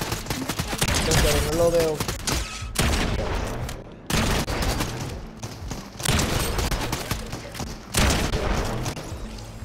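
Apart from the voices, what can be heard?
gunfire in video game Fortnite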